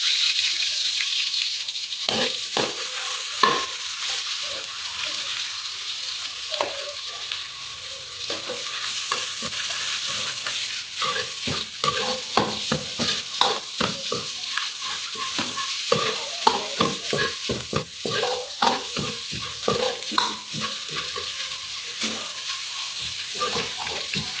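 Chopped garlic sizzles and sautés steadily in a hot pan, with scattered stirring clatters over a continuous bright frying hiss. It is the opening step of a Filipino dinuguan (pork blood stew) before the meat goes in.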